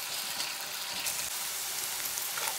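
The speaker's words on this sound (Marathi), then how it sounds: "आणि छान आता परतून घेऊया." Onion and garlic sauté in a pan, cooking until the garlic turns pink and the onion softens. A steady, close, dense sizzle runs without a break for the whole span, with no voices.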